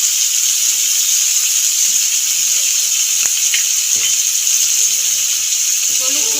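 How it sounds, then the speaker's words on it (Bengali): Chicken sizzles and fries steadily in a pan with a bright constant hiss, punctuated by a few soft clinks of stirring, close and loud throughout. "নেড়ে চেড়ে বেশ কিছুক্ষণ ধরে ভেজে নেব চিকেনটাকে"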